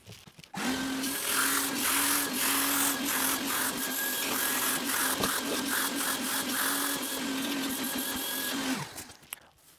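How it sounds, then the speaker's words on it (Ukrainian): A washing vacuum cleaner extracts water from fabric car seat upholstery. A loud, steady motor whine with hissing suction runs for about eight seconds after switching on, then cuts off at the end. "Тепер давайте промиємо це миючим пилососом."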